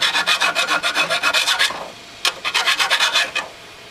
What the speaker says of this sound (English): So this blade's really hard to sharpen